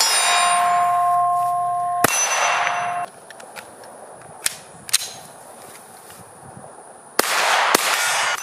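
Gunshots from a pistol fitted with an MCK gun kit while firing through magazines: about five sharp, loud cracks spaced irregularly, some followed by a brief metallic ringing, with no talking.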